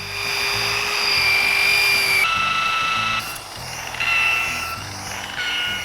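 A steady, high-pitched power sander whines continuously against a surfboard, its pitch shifting a few times as it presses against the surface; no voices.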